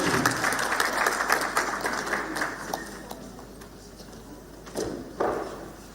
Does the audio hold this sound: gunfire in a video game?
no